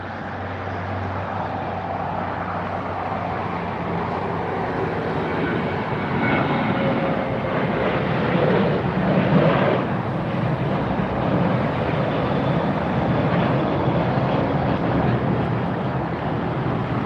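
A JetBlue Airbus A321 arrives at LAX from Boston as a steady, broad jet roar with some wind noise, held at a fairly constant level throughout and heard from a distance.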